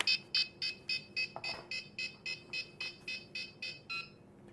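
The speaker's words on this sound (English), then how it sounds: "Wait for it to stop beeping there" A WLtoys V911 helicopter transmitter beeping at power-on indoors: a steady run of about fourteen short, evenly spaced high electronic beeps, close and clear, with no talking.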